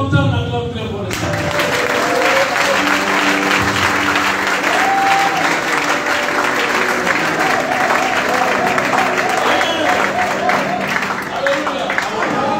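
A congregation at a church seminar claps and cheers for the Lord, with loud, sustained, dense applause filling the room from start to finish and voices mixed into the crowd noise.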